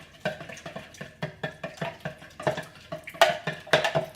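A spoon stirs jello powder into boiling water in a bowl, tapping and swishing in a steady rhythm of about two strokes per second, close and fairly quiet.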